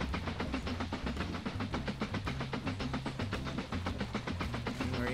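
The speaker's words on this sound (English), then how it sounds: "There goes our other train" A train rolls past in the video game Mashinky, giving a quiet, steady clatter of wheels with a regular rhythmic beat and faint hiss over a low rumble.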